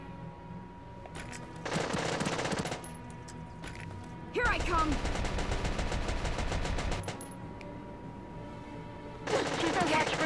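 Machine gun fire from the Valkyria Chronicles video game comes in several rapid bursts, the longest running about three seconds, set among battle effects, with a character voice speaking between the bursts.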